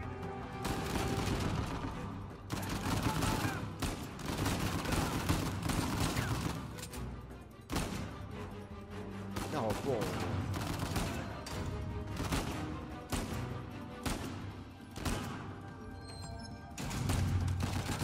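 Near-constant gunfire in Uncharted 4, dense rapid shots and bursts continuing for the full length. Explosive booms and crashes break through now and then, and the volume stays loud with only brief dips.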